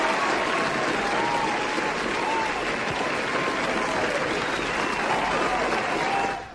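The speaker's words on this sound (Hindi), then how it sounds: "तालियां." Steady audience applause fills the whole stretch at moderate loudness during a Hindi radio show segment, dense clapping that holds evenly before cutting off at the end.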